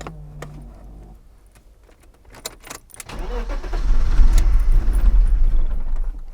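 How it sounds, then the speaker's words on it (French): An old car's engine running rough on a suspected ignition coil fault, not firing on all six cylinders: scattered clicks and ticks, then the motor catches and settles into an uneven, loud, lumpy idle. "on sent bien qu'elle tourne pas sur tous ses cylindres et elle a envie d'y aller"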